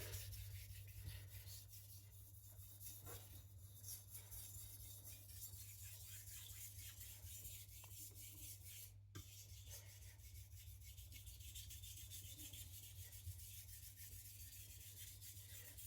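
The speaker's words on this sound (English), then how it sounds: "I'm reprofiling here since I like some more acute micro bevels on my edges for strength." A knife edge is being reprofiled to a plain V-edge on a sharpening stone, a faint, steady scraping rasp repeated in long even strokes, with one brief sharper scrape near the middle and no talking.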